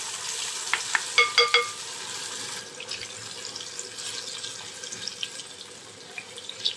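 Blue lotus flower pakoras in gram flour batter dropped into hot oil, a bright bubbling sizzle with a few sharp crackles early on, then a steady frying hiss at close range.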